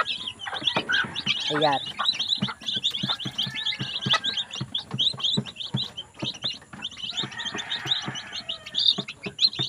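Chicks chirp and peep steadily on a farm in rural Bohol, with quick, high calls repeating close by, and a voice speaks briefly over them.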